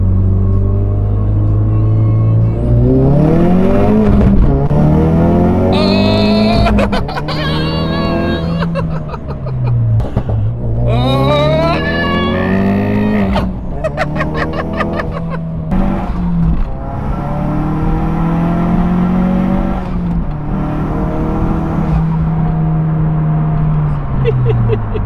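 Race car with over 400 horsepower and no rear seats, its engine revving and accelerating loudly through repeated rising pitch sweeps and gear changes, heard from inside the cabin with a rumbling low drone throughout.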